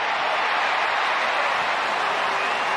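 A football stadium crowd cheers and applauds for a player, a loud, dense, continuous roar filling the whole moment without letup.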